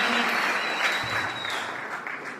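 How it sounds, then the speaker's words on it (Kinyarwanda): A crowd at a Rwandan scouts' week closing ceremony claps in sustained, dense applause from start to finish, with a faint voice beneath it. "Ababyemera ni mu amashyi ko bafatanya natwe."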